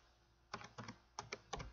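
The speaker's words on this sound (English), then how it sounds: "I can type in here" Fingers type on a computer keyboard in a quiet room, tapping out several small bursts of crisp, close keystrokes separated by short pauses.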